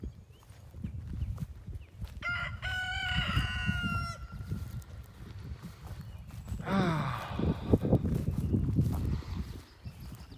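Chickens cluck and a rooster crows twice at a backyard poultry coop among pines, the crows rising clearly over a low rustling, shuffling background, with hens clucking in between.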